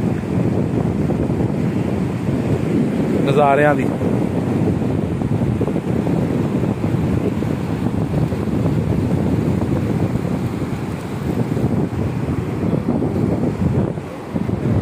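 Continuous wind rushes across the microphone along with surf washing on a clean seashore, a loud, dense roar that holds steady throughout, broken once by a brief warbling tone.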